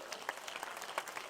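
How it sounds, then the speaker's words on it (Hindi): A crowd at a public speech on education gives brisk, dense applause with a few sharper individual claps standing out, sustained evenly across the moment. "खड़े होकर ताली बजाओ इस बात में, तो खड़े हो जाओ।"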